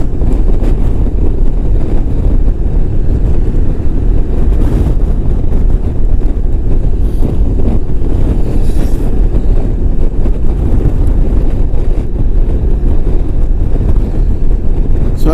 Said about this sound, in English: I don't know how much that's coming through in the microphone, but the wind is really, really strong